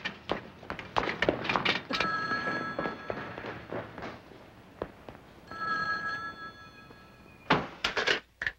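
An old telephone bell ringing indoors, repeated rattling rings in bursts separated by short pauses, fairly close, with a few thunks and no talking during the rings.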